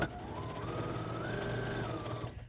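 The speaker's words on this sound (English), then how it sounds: "As I start stitching, I'll just line it up here and keep going." A sewing machine runs steadily while stitching a fabric pot protector, a close, continuous whirring drone with a slight rise in pitch midway before it stops abruptly.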